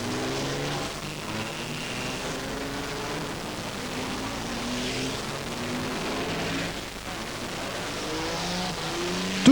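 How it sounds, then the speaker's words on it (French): Race cars set off together on a warm-up lap, a steady blended drone of several engines with rising and falling pitch sweeps as they pass, heard over constant broadband track noise. "les voitures partent maintenant pour un tour de chauffe"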